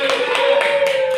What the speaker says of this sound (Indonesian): Coba berikan tepuk tangan dulu.